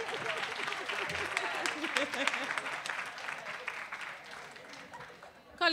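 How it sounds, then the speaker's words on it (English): An audience at a women's conference session applauds, a steady wash of clapping from a hall-sized crowd that fades slightly toward the end, with a voice speaking over it. "A rousing round of applause for Dr. Sexian."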